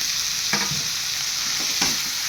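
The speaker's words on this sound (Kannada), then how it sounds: "ಇದು ಹುರಿದ ನಂತರ ಮೂಲಂಗಿ ಹಾಕ್ಕೊತಾ ಇದ್ದೀನಿ" Radish stir-frying with ginger-garlic paste in a pan, a steady loud sizzle broken by a couple of scraping stirs.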